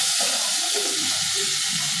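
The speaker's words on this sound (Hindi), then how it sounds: "अदरक और मिर्ची का पेस्ट है ये, हल्का सा हमको फ्राई करना है।" Ginger and chili paste frying in a pan with cumin, black pepper and asafoetida, a loud continuous sizzle with stirring, close and without talk.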